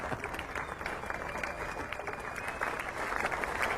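Crowd applause ripples steadily around the ground at an England versus India cricket Test match at Trent Bridge, a dense, continuous clapping heard from a distance, with no voices over it.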